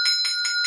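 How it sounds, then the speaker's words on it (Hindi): A small hand bell, the kind rung at a temple, is shaken briskly four times in under a second, each bright metallic ring sounding close and loud with no voices. "जैसे ये बेल है, ये हम ऐसे ऐसे बजाते हैं"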